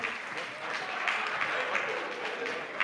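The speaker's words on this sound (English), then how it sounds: "the applause going for Comrade Adams Oshiomhole" A crowd applauds steadily throughout, a dense patter of clapping hands at moderate distance.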